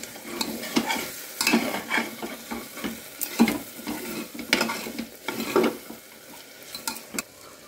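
Coriander powder, chhole masala and garam masala roasting in a pan for Punjabi chhole, with a spoon stirring and scraping in repeated strokes over a soft, steady sizzle, close by and with no talk.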